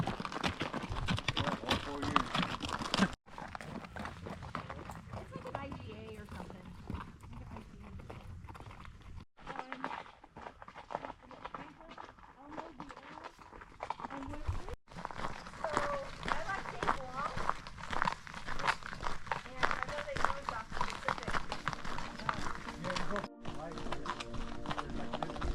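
Horse hooves clip-clop on a dirt hiking trail, a steady walking rhythm heard among rustling and people chatting nearby.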